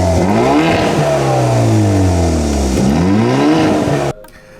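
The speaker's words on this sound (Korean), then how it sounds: "방금 들으셨던 이 우렁찬 벨로스터 N의 상징인 배기 소리, 팝콘 소리" A loud, sporty Hyundai Veloster N engine with an 8-speed DCT revs hard through several rising and falling sweeps, its raspy exhaust popping and crackling, then cuts off abruptly near the end.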